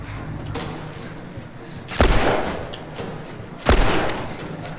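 Gunfire in The Last of Us: two sharp, loud gunshots roughly two seconds apart, each with a short decaying tail over a low background of game ambience.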